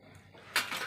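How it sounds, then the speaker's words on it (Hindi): Dishes and utensils clatter during a home meal, a brief soft rustle giving way to a louder clink and scrape of plates being gathered up, close by and short. "बर्तन उठा रहे तुम सभी।"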